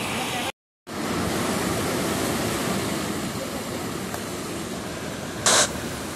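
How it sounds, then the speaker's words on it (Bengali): Water rushes steadily over stones in a mountain stream at Pahalgam, a broad, constant roar close by. A brief dropout breaks the flow early, and a short sharper splash comes near the end. "এসব সমানে জল যাচ্ছে"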